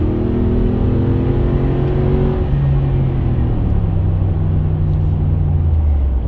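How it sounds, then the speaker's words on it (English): A non-AMG Mercedes V8 engine rumbles loud and close, revving with rising and falling pitch through a steady low drone, heard alone. "But the V8 for a non-AMG sounds good."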